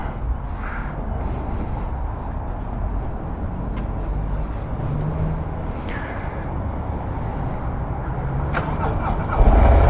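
A Harley Davidson Road Glide motorcycle on a weak battery, cranked in neutral: a low, rough, labored churning rumble that runs on steadily, then swells with a louder burst at the very end as the engine catches.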